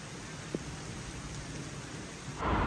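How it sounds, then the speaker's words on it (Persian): Steady rain and a low thunderstorm rumble at night in the Swiss Alps, a continuous soft wash with a brief crack early on and the downpour swelling louder near the end. "این شب زیبا هم با همه چالش‌های طوفان و بارونش تموم شد"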